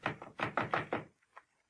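Knocking on a wooden door as a radio drama sound effect: several firm, close raps in quick succession, followed by a short pause and one fainter knock, with no voices.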